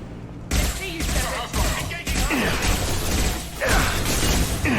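Blue Suns and Vulture troops trade gunfire in Mass Effect 2 as dense, crackling rapid fire, steady and loud throughout, with mechanical clatter mixed into the din.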